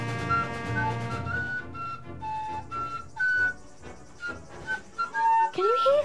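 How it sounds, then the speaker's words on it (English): A high, thin tin whistle plays a simple melody of short bright notes with pauses between phrases, ending in a quick sliding run. "Like someone playing a tin whistle."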